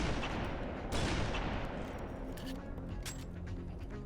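Gunfire in the video game Halo 3, with sharp, loud shots and booming impacts cracking in an irregular burst over a constant rumbling battle bed.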